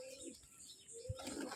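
A King pigeon with feathered feet gives a faint, low coo nearby amid quiet room ambience.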